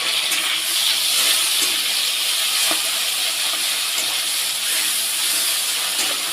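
Tomato with cumin, chili and radhuni spice pastes frying in a pan, a steady loud sizzle and hiss with small crackling pops throughout.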